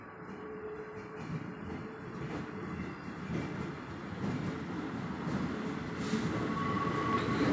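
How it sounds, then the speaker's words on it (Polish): A passenger train on the Frýdek-Místek to Český Těšín line rumbles in with a steady rolling roar that slowly grows louder, with faint wheel squeal and clatter. "Wjeżdża pociąg osobowy racji Fydek Mistek Cieszyn."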